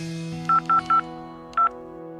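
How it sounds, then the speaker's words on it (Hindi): A touch-tone telephone dials a travel agent: three quick tone beeps in a row, a short pause, then one more, clear and close over a steady low hum. "मैंने अपने ट्रैवल एजेंट को फोन किया।"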